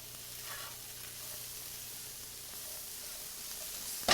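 Two cups of chopped green peppers sauteing on a low flame in a pan for garlic chicken, giving a steady, soft, even sizzle with no talking.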